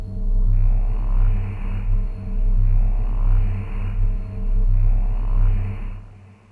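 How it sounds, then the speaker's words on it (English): Deep, rumbly creature sound sample made for dystopian ambient music: a loud, continuous low rumble with slow swelling pulses and a faint high hum above it, heard alone without talk. "It's super deep and rumbly"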